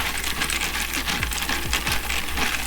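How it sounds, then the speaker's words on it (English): Running water streams steadily and loudly as lip gloss tubes are washed, with small plastic clicks and rattles scattered through it; no talking. "you guys can hear the water and the clicking and all that good stuff"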